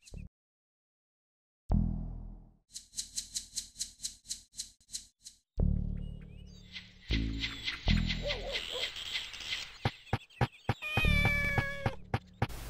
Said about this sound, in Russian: Котенок наш там в порядке. С ним Мегуми. Все время мяукает.